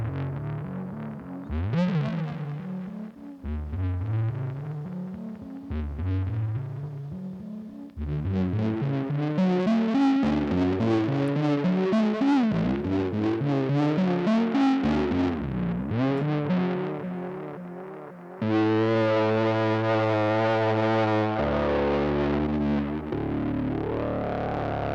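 A T-Rex Replicator Eurorack tape delay module with feedback turned up, producing loud, distorted, swirling repeats and pitch-bending echoes of synth tones, building and smearing over twenty-five seconds before settling into a sustained chord.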